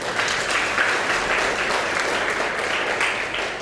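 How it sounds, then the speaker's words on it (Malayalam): Audience applause fills a Christian prayer gathering in Umm Al Quwain, UAE: a dense, steady wash of many hands clapping at once, loud and sustained throughout with no talk over it. "ഒന്ന് കൈയടിച്ച് കർത്താവിന് നന്ദി പറഞ്ഞാലോ?"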